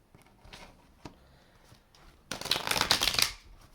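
Slippery tarot cards are handled with a few soft flicks, then a dense, loud riffle-shuffle burst lasting about a second before fading; no speech.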